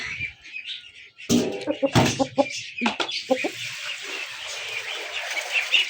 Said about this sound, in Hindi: गंजा मुर्गा